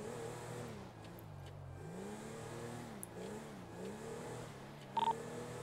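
A video game car with an odd engine note, like an electric car imitating a muscle car, revs in rising and falling sweeps, several swells in a row, steady and close, with a short beep near the end.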